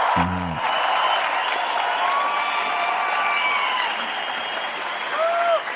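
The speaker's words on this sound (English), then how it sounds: "A round of applause" Applause for a Second World War veteran at a political rally, dense crowd clapping with scattered cheers and whoops throughout, a short voice heard at the start and a brief whistle near the end.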